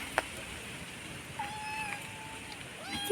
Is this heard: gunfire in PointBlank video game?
no